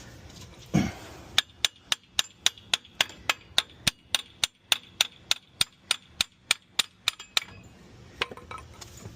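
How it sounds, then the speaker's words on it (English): A single heavy thud, then a steady series of about twenty sharp, ringing blows from a small hammer on a Ford Explorer ST rear axle, evenly spaced and close by. "I do have a bigger hammer, but we're using the small guy today"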